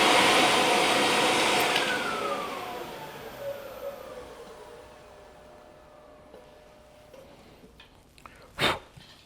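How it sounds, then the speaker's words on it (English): Dust extraction vacuum drawing chips away at a wood lathe turning a resin or acrylic blank, a loud steady rushing whoosh that fades over several seconds, followed by faint clicks and one brief knock near the end. "the cam vac does a really nice job of pulling a good number of these chips away"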